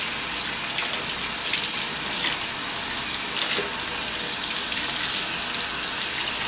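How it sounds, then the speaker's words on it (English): Tap water runs continuously as a doll's hair and head are rinsed under it. The steady splashing flow sounds close and even, with no talking. "She's going under the rinse, head and all."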